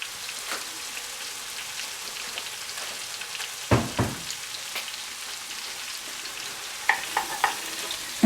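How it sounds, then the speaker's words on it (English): Mushrooms and vegetables sautéing in melted butter for mushroom stuffing, a gentle steady sizzle with a few louder clatters of stirring, close and with no voices. "now let's just put our veggies in and we'll saute them"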